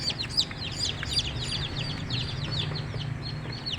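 Newly hatched chicks moved from a carton incubator to a brooding box peep in a constant overlapping chorus of high chirps, close by, with soft rustling underneath.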